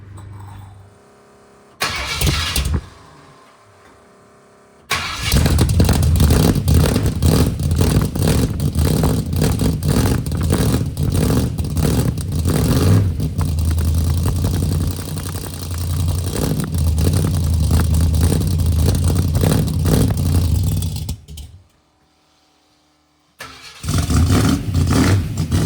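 Ford Mustang engine in a garage cranking briefly, then catching and running roughly with repeated loud revs for about fifteen seconds before cutting off and restarting, close and loud.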